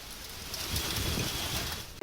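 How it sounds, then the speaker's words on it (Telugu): Steady heavy rain in Hyderabad hisses as a dense, even wash of noise, with no voices and only a brief dip just before the end. "ఉప్పల్లో భారీ వర్షం పడింది"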